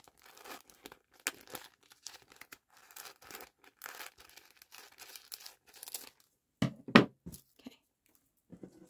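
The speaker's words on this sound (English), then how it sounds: "I'm just going to cut along this side." Packaging paper is cut along its edge in a run of short, crisp crinkling and tearing snips, close and quiet, with a louder cluster of cuts near the end.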